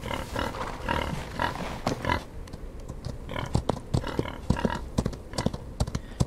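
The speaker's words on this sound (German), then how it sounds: "Diese Schweine. Von der Lautstärke her gehen die mir tierisch auf den Sack." Pigs in the Old West video game Outlaws of the Old West grunt and oink loudly and repeatedly in irregular bursts, with a short quieter gap partway through, close and insistent.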